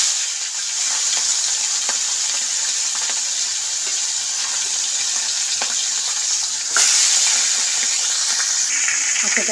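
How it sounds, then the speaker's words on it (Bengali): Fish heads fry in hot oil in a wok, giving a loud, continuous sizzle and hiss that jumps in intensity partway through and stays strong. "মাছগুলো যে মাথাগুলো মাখানো ছিল সেগুলো দিয়ে দেব"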